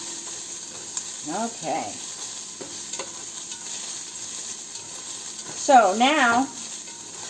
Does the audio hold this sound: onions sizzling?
yes